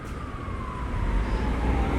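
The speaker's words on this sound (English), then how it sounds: "Now hear the sirens?" A police siren wails somewhere in the city, a faint rising-and-falling tone drifting over low traffic rumble, distant and steady with no voices.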